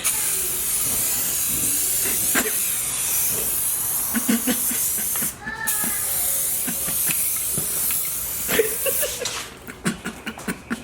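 A steady, broad hiss of aerosol spray paint on a Nissan 350Z strut bar runs almost continuously, with a brief pause midway and scattered clicks and soft knocks near the end.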